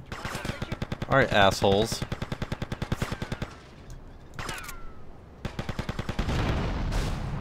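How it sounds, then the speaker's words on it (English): Enemies fire at the player in GTA Vice City: rapid, evenly spaced automatic gunshots rattle close and loud, pause, then resume in further bursts, while someone briefly speaks over the shooting. "Are these people shooting at me?"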